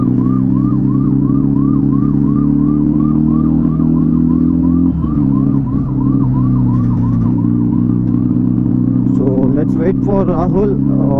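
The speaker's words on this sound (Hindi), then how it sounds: "इसको एम्बुलेंस को रास्ता दो यार पहले तो" A loud wailing ambulance siren sweeps up and down steadily over heavy engine rumble, close by in road traffic, with a horn blaring near the end.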